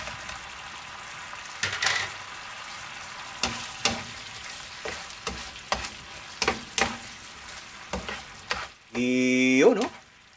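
Breaded chicken tocino frying in a thick, reduced sauce, with a steady low sizzle broken by repeated scraping stir strokes, ending in a louder sustained sizzle.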